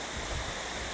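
A river rushes in a steady, broadband wash of flowing water, close and continuous, with no voices.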